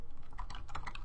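Quick, light keystrokes tap across a computer keyboard in a short, uneven burst, close and fairly quiet with no talking.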